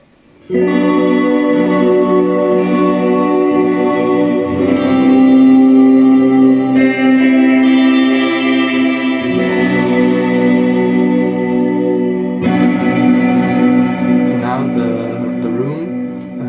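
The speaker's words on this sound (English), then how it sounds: "So this is what the reverb would normally sound like." A sustained synthesizer chord drenched in reverb, its tones blooming and lingering as the pads shift, loud and continuous throughout.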